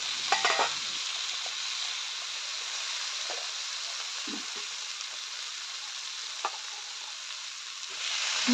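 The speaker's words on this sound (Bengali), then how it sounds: "এটা দিয়ে এখন কিন্তু আলুটাকে সময় নিয়ে ভেজে নেব" Potatoes fry in a pan for a Bengali red amaranth stem chorchori, giving a steady close hiss and sizzle throughout with a few soft stirring clicks and scrapes.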